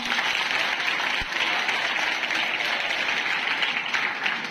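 Sustained applause from a crowd at a school inter-house quiz competition, dense and steady clapping filling the whole stretch without a break.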